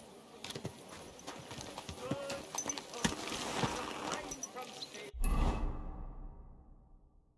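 Horse hooves clopping on the ground in Kingdom Come Deliverance 2, irregular and fairly close amid outdoor ambience, ending in a low rumbling thud before fading away.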